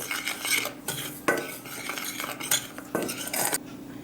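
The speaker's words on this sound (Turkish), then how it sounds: "kuru malzemeleri karıştırıyorum" A utensil stirs dry ingredients, flour and starch, in a bowl with scraping, clinking strokes in an irregular rhythm, quiet and close, with no voices.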